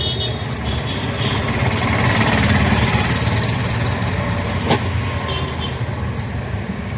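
An auto rickshaw engine runs in Bangalore with a loud, steady idling rumble close by. One sharp click sounds midway.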